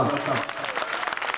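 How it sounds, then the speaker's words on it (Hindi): Crowd clapping fills a large tent gathering at a Hindi-Urdu poetry recitation, a dense and steady burst of applause with a voice or crowd noise mixed in. "एक बार पूरा पंडाल ताली बजाए ना"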